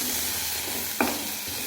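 Potato pieces fry in oil already used for cauliflower, giving a dense, even sizzle with one short sharp crackle about midway, close and steady, with no talk.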